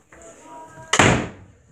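A door at a grandparent's house, near the bathroom, shuts with one sharp, loud slam after a brief low rustle of handling, then the sound fades into the quiet room.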